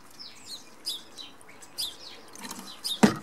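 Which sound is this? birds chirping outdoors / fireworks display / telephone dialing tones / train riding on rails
birds chirping outdoors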